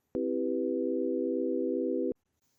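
A synthesized tone made from four summed sine waves, one at 493 Hz, sounding as a steady buzzy hum for about two seconds with clicks at start and stop, then silence.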